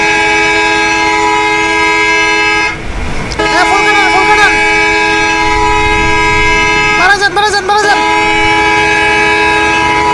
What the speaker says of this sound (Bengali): আরে এত হর্ন কেন